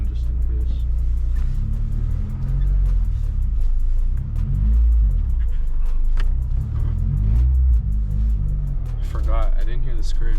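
Supercharged Acura RSX on its first drive, its engine droning loudly from inside the cabin and rising as it accelerates, with a deep steady rumble and occasional voices over it.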